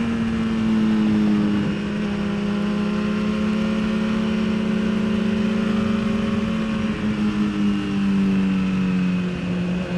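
A 2016 BMW S1000RR track-build sport bike engine drones loud and steady at high revs in third gear on a track, holding its pitch for about ten seconds, close and without talk.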